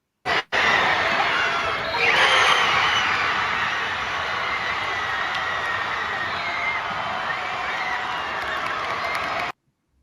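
A packed high school basketball gym crowd cheers and applauds in a sustained, loud roar after a brief opening burst, with whoops and shouts rising near the start, then steady until it cuts off.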